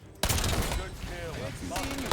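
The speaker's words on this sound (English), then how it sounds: "I shot the bouncing Betty. So that, what's it called? So that it would do the splash damage right there." Gunfire in the video game Warzone aimed at a Bouncing Betty mine: a sudden loud crack, then a dense burst of rapid shots with ringing tones over a steady game background.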